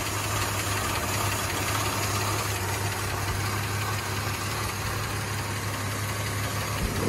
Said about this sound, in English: motor runs absolutely amazing.